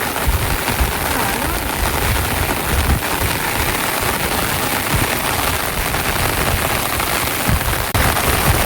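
Heavy monsoon rain pours down beside a swollen river in the Gir region, a thick, continuous hiss of drops pattering on surfaces with a sharper burst near the end.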